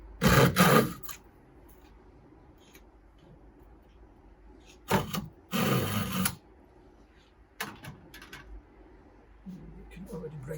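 Small handsaw cutting hard oak, heard as a few separate bursts of rasping strokes with quiet gaps between, close by, with a person talking softly in between.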